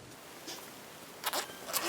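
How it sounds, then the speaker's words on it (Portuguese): A zipper on a fabric shoulder bag being sewn is opened in a few quick, close rasping pulls, brief and crisp against a quiet background. "Eu vou abrir aqui o meu zíper"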